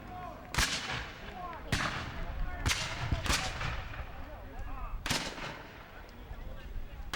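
Musket and artillery fire at a Civil War re-enactment: five sharp, loud reports with echoing tails at irregular intervals, over a rumbling outdoor background with distant shouting.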